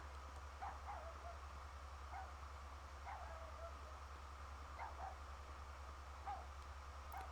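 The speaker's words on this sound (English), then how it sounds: "I just keep hearing the dog." A dog in the PS2 video game Rule of Rose barks and yips in faint, muffled bursts, repeating irregularly over a steady low hum.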